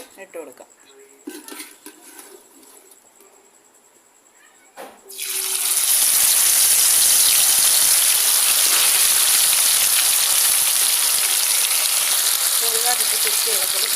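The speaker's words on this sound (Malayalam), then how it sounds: "അപ്പോൾ നമ്മുടെ എണ്ണ ചൂടായി വന്നിട്ടുണ്ടെങ്കിൽ നമുക്ക് ചിക്കൻ്റെ പീസുകൾ അങ്ങോട്ട് ഇട്ട് കൊടുക്കാം" Chicken pieces hit hot sesame oil, setting off a loud, steady frying hiss that keeps going without a break for about nine seconds after a quieter start with a voice speaking.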